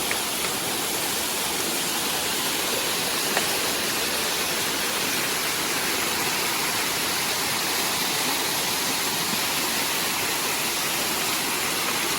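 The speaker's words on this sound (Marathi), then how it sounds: "इकडे आपला खाली धबधबा आहे" A hillside waterfall near Mopa Airport roars with a constant, broad rushing hiss of falling water, loud and unbroken, with no voices over it.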